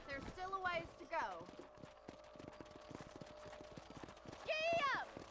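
Horse hooves clip-clopping under a rider in Red Dead Redemption, a steady rhythmic series of close hoofbeats with a horse's whinny or snort at the start and again near the end.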